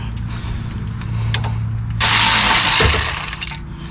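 Ratchet wrench turning a 17 mm bolt on the front passenger-side shock of a 2011-2020 Dodge Grand Caravan, with a loud, close burst of rapid clicking and mechanical rasping over the second half, preceded by lower handling noise.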